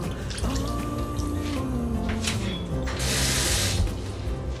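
Water runs into a pot while crab is being cooked in coconut milk, a continuous splashing pour with a brief louder gush near the end, heard close up with no talking.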